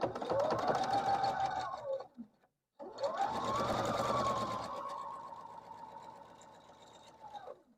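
A sewing machine stitches quilt block pieces in two close, steady runs, the first about two seconds long, a short pause, then a longer run that eases off toward the end.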